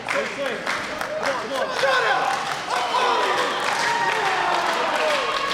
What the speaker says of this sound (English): You hear it, I hear it. This crowd behind Echo trying to bring him back in.